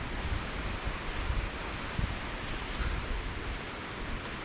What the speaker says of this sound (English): It's windy. It's miserable.